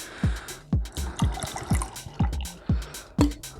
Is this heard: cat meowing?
no